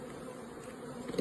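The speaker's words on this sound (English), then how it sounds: "Beautiful bees." A soft, steady buzz of many honey bees hums at an open hive, faint and continuous, with a slight swell near the end.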